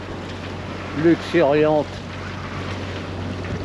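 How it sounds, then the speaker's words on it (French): A sailboat motoring under engine power among the Greek islands gives a steady low hum and wind rush, with a brief spoken word partway through. "On est toujours en appui moteur"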